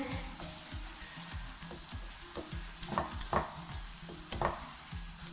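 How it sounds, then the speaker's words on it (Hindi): Machine-minced meat filling with sauces and dry spices fries in a pan over high heat, giving a soft, steady sizzle broken by repeated close stirring scrapes, a few of them sharper and louder. "थोड़ी सी आंच तेज़ करेंगे ताकि ये जल्दी भुन जाए"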